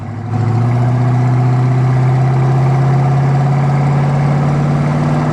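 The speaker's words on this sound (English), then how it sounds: "Roll into the throttle here just a little bit." A 1976 Pontiac Firebird Formula's numbers-matching 350 V8 with an automatic transmission drones steadily and close by during a test drive. The low engine hum holds even and rises slightly as light throttle is applied.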